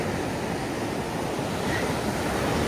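Big ocean waves with a strong rip tide at Point Mugu beach on the California coast, a continuous loud roaring wash of surf with light wind noise and no voices.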